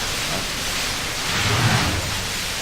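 Ice Storm spell cast in the video game Baldur's Gate II, a dense, steady rush of hissing noise like pelting rain, with a low rumbling swell partway through.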